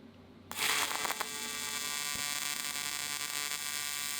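High-frequency welding machine jumping an arc gap: after a half second of quiet, a sudden loud buzzing crackle starts and holds as a steady electrical hum with sharp snaps at the start.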